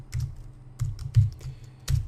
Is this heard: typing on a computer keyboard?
yes